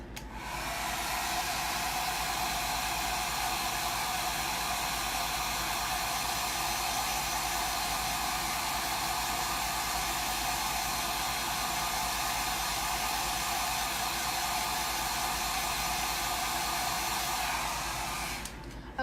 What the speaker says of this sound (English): notice that I'm using both a hairdryer and a heat gun.